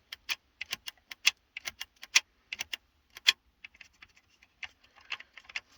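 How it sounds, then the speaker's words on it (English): Repeated light, dry clicks from a radio control in an early 2000s car, turned close up in quick uneven bursts against near silence. "I'll just bring this closer and listen to the click of it."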